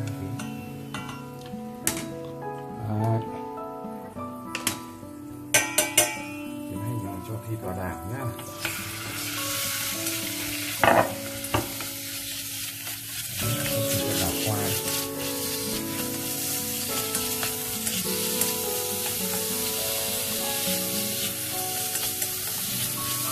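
Pork stir-frying in hot oil in a pan gives a continuous loud sizzle, with scattered clicks and scrapes of stirring that grow denser partway through, heard on its own without talk.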